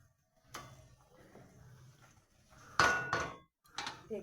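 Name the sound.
lid placed on cooking pot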